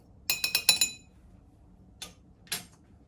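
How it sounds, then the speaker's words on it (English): A bartender spoon clinks against melting ice in a mixing glass: a quick run of four or five bright rattling taps, then two separate clinks after a pause, close and clear. "I'm just gonna stir it a little bit with my bartender spoon"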